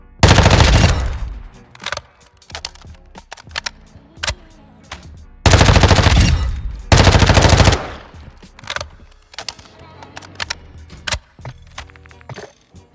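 An MP5 submachine gun fires at a firing range in a DMZ video game. Loud full-auto bursts come in two long strings, broken up by shorter bursts and scattered single shots.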